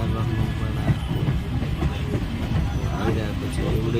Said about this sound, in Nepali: अब ट्रेन आउने जाने भइरहेको छ।